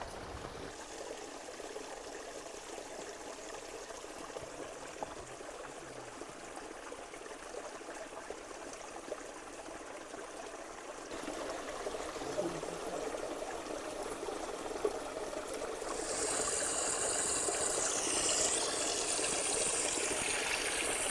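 Water flows and trickles in a soft, continuous stream, faint and even, rising a little louder near the end with no voices over it.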